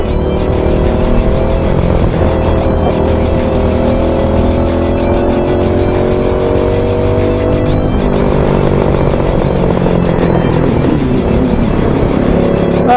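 GX rallycross race car on its final lap at Rowrah, engine revving hard and steadily close up, pitch climbing and shifting through gears with loud continuous roar, tyres scrabbling, no talk.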